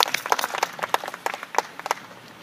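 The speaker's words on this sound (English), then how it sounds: "give him another hand clap" A crowd applauds at a Gullah/Geechee Heritage Days event, a brisk patter of many hands clapping at moderate distance, steady and fairly loud throughout.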